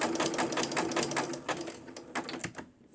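A sewing machine stitching a button on by machine, its needle running in quick, even mechanical pulses at close range, slowing and stopping near the end.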